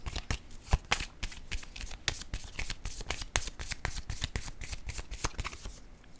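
Oracle cards being shuffled by hand, a steady run of rapid, crisp flicks and papery slaps lasting several seconds, close and fairly loud, with no voices.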